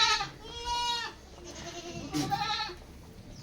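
Kodi goats, mother goats with their kids, bleat in two loud, wavering calls, each about a second long, on a farm for sale near Kovilpatti, with quieter animal noise between the calls.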